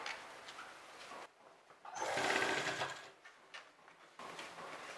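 A sewing machine stitches fabric for a box pleat skirt, running in a few short, moderately quiet bursts with one longer, louder run in the middle.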